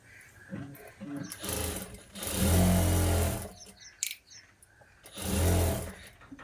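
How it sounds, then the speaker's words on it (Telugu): A sewing machine runs in two loud bursts while stitching a blouse, with quieter moments of handling and talk between the runs. "ఇప్పుడు పై భాగంలో కుట్టుకోవాలండి కింద కదలకుండా ఒక కుట్ట అనేది వేసుకోవాలి"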